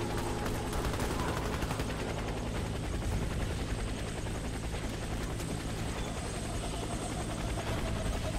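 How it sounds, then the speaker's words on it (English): A military helicopter arrives for an extraction in the shooter game Warface, its rotor drone loud and unbroken throughout, with scattered gunfire mixed faintly into the din. "Helicopter is inbound."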